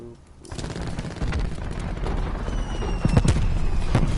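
A cluster grenade in Black Ops 4 goes off as a dense, rattling burst of overlapping small blasts and crackles, loud and continuous over game noise, with a voice talking underneath.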